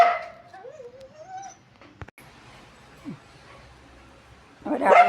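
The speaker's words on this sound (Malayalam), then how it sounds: "പട്ടി കുരയ്ക്കുന്നുണ്ട്" A dog at a house barks and whimpers in short, faint whines and yelps, with a louder burst near the end.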